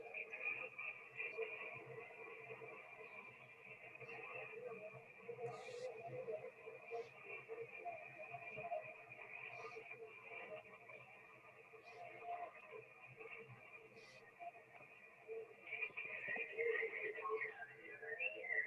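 An amateur radio signal from a portable station comes through a receiver as steady tones and faint voice over a hiss of static. Short bursts of interference break in, and the signal grows stronger near the end as an aircraft crosses the path.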